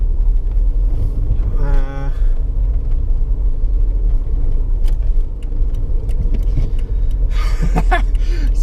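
An old hydropneumatic car rumbles on a test drive, its engine a loud constant low drone with road rumble, plus a brief whine and a few knocks and rattles.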